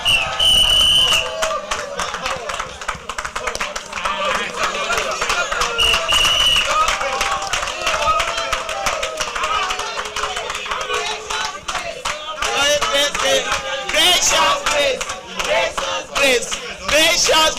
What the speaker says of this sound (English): let's give her a standing ovation